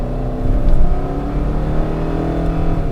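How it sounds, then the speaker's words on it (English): A car with spongy brakes, a $1500 trade-in, accelerating hard with the pedal floored, its engine roaring loud and steady from inside the cabin for the whole stretch, with rising harmonic drone and no talk. "Let me floor it."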